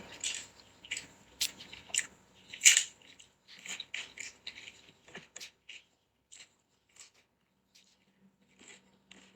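Crisp, crunchy bites and chewing, a quick series of snaps close up, growing sparser and quieter toward the end.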